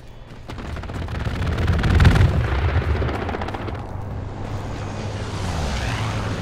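An aircraft strafing run in the Hell Let Loose World War II shooter: a rapid rattle of gunfire swells into a heavy booming roar around the middle, then fades into a lingering rumble.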